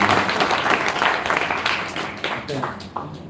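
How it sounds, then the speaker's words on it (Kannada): Loud applause from the audience at a Carnatic classical concert with mridangam, kanjira and thavil players, a dense burst of clapping that gradually thins out over a few seconds. "ಜೋರ ಚಪ್ಪಾಳೆ"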